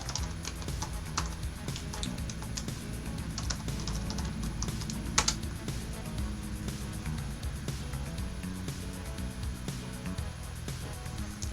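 Command being typed on a computer keyboard in a Linux terminal, soft continuous key clatter under a steady background hum, with one sharper keystroke partway through.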